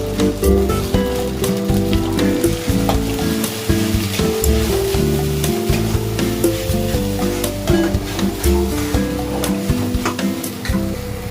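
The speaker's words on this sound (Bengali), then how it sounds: "এখন আমার মশলা ভাজা হয়ে গেছে" Loud, continuous sizzling of spices with salt and turmeric frying in a pan, with frequent scraping and clinking of a spatula stirring throughout.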